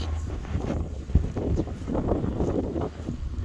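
Gusty wind buffets the microphone outdoors at a lakeside camping area on Lake Ellesmere, a rough, fluttering rumble that rises and falls with a sharp knock partway through.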